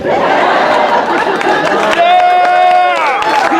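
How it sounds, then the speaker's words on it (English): A crowd of rednecks cheers and chatters at a party, a loud, dense roar of voices with whoops rising over the babble, close and continuous throughout. "That's the rednecks cheering right now."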